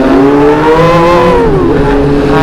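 A motorcycle engine revs loud and close, its pitch climbing slowly and unsteadily, then dipping and rising again as it struggles to pull with sluggish acceleration. The roar runs continuously with no voices over it.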